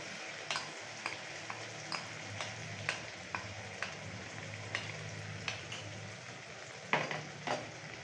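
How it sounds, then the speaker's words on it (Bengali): Spice paste with turmeric frying in hot oil for a spicy rohu fish curry, a steady close sizzle broken by sharp spoon scrapes and taps against the pan roughly every half second, no voices. "সেই পেস্টটা মা তেলের মধ্যে দিয়ে দিল।"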